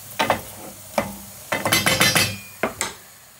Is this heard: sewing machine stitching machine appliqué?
no